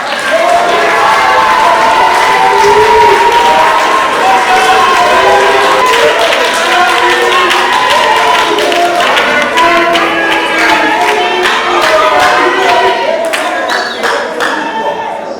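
A large crowd applauds loudly and continuously, clapping thick and sustained with scattered cheers, tapering slightly near the end.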